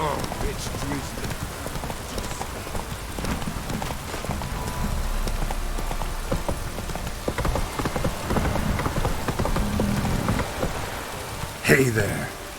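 Steady light drizzle in The Witcher 3 pattering around walking horse hooves, with a voice breaking in near the end.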